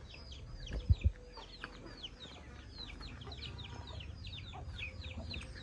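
Free-range local chickens in a home garden give off a rapid chorus of chirps and clucks throughout. Two low thumps come near the start, and the birds sound close and steady against a soft background.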